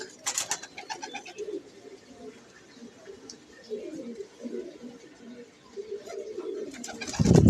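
Soft, low pigeon coos repeat throughout at close range, with a few sharp rustles and taps at the start and a louder thump at the end.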